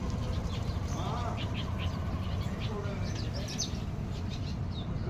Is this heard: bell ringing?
no